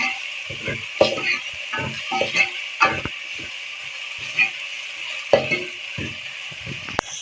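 Tomatoes go into frying garlic ginger paste in a pan, giving a soft sizzle under repeated scraping stirs of a spoon, irregular clacks and strokes close by, with a faint voice now and then.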